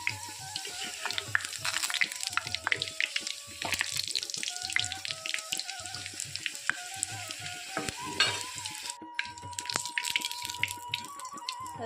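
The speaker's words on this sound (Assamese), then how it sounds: "এনেকৈ মই কেইবাটাও একেলগে দি ভাজি ল'ম।" Jon pitha sizzle and crackle in hot oil, several frying together, with a steady fry hiss and occasional stirring clinks and scrapes, close and continuous.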